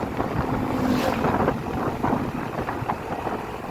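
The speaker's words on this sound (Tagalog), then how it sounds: "Nalakas naman yung hangin." Strong wind roars steadily against the microphone at a windmill farm, a dense broadband rush with gusty swells throughout and no voices.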